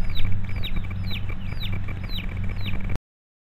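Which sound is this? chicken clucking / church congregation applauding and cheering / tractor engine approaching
chicken clucking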